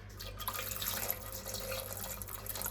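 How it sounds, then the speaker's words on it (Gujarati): About half a glass of water is poured into soaked chickpeas in a vessel before boiling them in a pressure cooker, a faint, steady trickling splash that lasts throughout without any talking. "અડધો ગ્લાસ જેટલું મેં પાણી નાખી દીધું પાછું"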